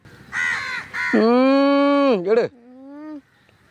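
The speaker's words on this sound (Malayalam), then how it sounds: "ആ മീൻകറിയുടെ മണം കെട്ട് കാക്കളൊക്കെ വന്ന് കൂടിയ" Crows gather, drawn by the smell of fish curry, and give loud, harsh caws close by. There are three or four drawn-out calls, one long and strained, and the last is fainter.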